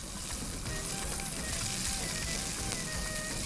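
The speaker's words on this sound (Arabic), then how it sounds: "وابدا انزل اللحمه واوزعها كده وانا بنزلها" Raw meat for a rice-and-béchamel tray sizzles steadily in a hot pan, a dense, even crackle holding at a moderate level throughout with no one speaking.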